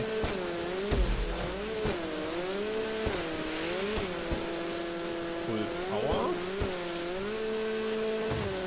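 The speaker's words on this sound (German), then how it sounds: "Ah, hier kann man richtig Gas geben." Engine of a car in GTA 5 on PC revving and pulling through gear shifts, with a steady rising and falling drone and a few sharp knocks, fairly close and continuous, no talking.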